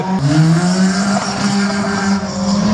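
Race car at the 2018 Saint-Lô slalom, a loud, steady engine note with a rising and falling pitch as it revs close by, holding strong throughout with no talk over it.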